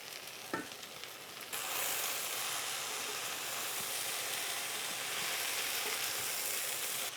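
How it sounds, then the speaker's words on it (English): Corned beef hash stirred carefully in a pan, a steady hissing sizzle with a brief scrape near the start, then continuous frying noise filling the rest, close by. "I'm going to be careful stirring it"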